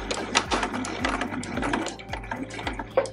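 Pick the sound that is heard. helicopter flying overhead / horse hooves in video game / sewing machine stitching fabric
sewing machine stitching fabric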